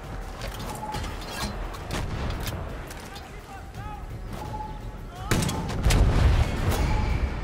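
Explosive booms and gunfire in the Far Cry 6 video game during a fight against a tank, with a heavy blast near the end, continuous rumbling combat and a voice shouting over it.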